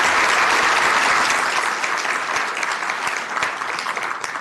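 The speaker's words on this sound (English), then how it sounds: "Big round of applause for you." A crowd at a city council meeting breaks into a full round of applause, dense steady clapping heard close and loud that fades slightly toward the end.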